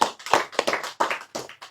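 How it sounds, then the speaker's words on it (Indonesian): An audience in an Islamic religious lecture setting claps briefly, a small group of close, uneven hand claps in quick irregular bursts lasting under two seconds with no talking. "Tepuk tangan untuk Abdul Somad ya."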